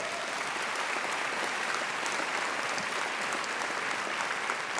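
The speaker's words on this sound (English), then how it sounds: "I think she deserves another great round of applause." A large audience at a graduation ceremony gives sustained, dense applause, an even, loud wash of clapping that fills the hall from start to finish without letting up.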